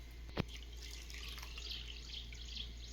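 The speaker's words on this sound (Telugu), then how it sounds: "ఇప్పుడు 2 కప్పుల నీళ్లు పోసి నానబెట్టేద్దాం కొలత ప్రకారం." Water pours over soaking moong dal in a home kitchen as a faint, steady trickle with one brief splash near the start, and no voices are present.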